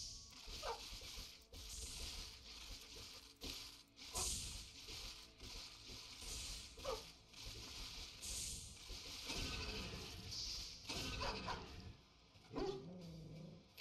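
Dogs bark and yip through a strategy video game battle, short scattered barks and whines mixed with clanking mechanical effects, continuing busily at moderate volume.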